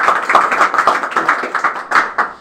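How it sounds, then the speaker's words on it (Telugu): An audience claps at an office launch event, a dense run of brisk, loud hand claps that fades slightly toward the end. "వన్స్ అగైన్ అందరు క్లాప్స్ కొట్టాలి"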